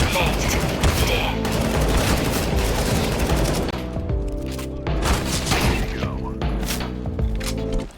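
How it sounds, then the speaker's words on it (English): Heavy gunfire in Counter-Strike crackles loud and close in rapid, overlapping bursts, thinning into scattered shots as a voice speaks through the shooting. "half of Valeria's speech got garbled by gunfire"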